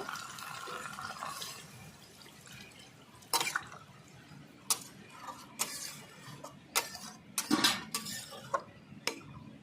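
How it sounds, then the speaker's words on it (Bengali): Water is poured into a pan of prawn and seeded-banana curry, a soft, quiet liquid rush followed by scattered clinks and taps of utensils against the pan, with no talking. "এবার আমি পরিমাণ মতন জল দিয়ে দেব"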